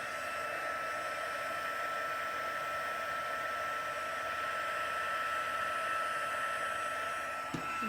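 A craft heat tool blowing hot air to heat emboss a glittered handmade card, a continuous loud hissing whoosh with a steady tonal hum throughout, nearby and without voices.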